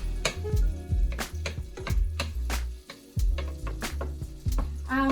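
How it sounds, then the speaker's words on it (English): Butter melting in a pan for a Southern-style roux, giving a steady sizzle with repeated sharp clinks and scrapes of stirring over low hum. "Now, I'm actually gonna let this butter melt down a bit first."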